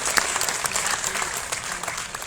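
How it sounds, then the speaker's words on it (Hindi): Brief burst of audience clapping for students at an elocution contest, dense and fairly loud, continuing steadily with a faint voice beneath. "आप लोग तालियां बजाते रहे, अगर नहीं बजाएंगे तो बच्चे हताश हो जाते हैं।"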